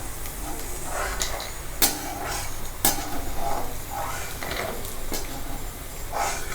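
Cashew nuts frying in hot oil in a pan, a steady close sizzle and hiss with occasional sharp clinks of a utensil against the pan, no voices.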